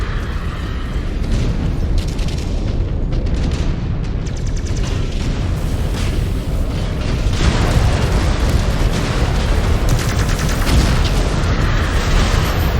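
A destroyed mech explodes in MechWarrior 5 Clans, a loud, dense booming blast that rumbles on continuously with layered crashing debris and a second surge midway, heavy low end throughout.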